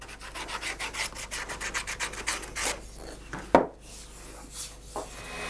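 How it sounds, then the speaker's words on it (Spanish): Electric polisher brushes coated with wax work a boxwood spoon, giving repeated soft rubbing, brushing strokes in a steady rhythm, near and moderately loud, with a sharper knock partway through. "Hoy, José Luis ha sustituido el hueso por los cepillos de la pulidora eléctrica, untados previamente con cera."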